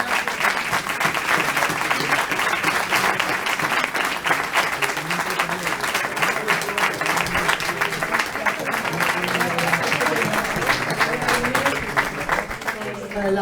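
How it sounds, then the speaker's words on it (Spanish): An audience at an art exhibition opening in Madrid applauds the artist, a dense, sustained round of clapping from many hands that lasts over thirteen seconds and begins to trail off near the end, with voices mixed in. "Un aplauso para Isabel,"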